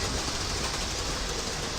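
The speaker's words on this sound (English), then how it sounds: "I've heard that someone's train's coming in." A train rolling past at close range, a loud steady rumble and rattle of railcars filling the whole moment with no voices.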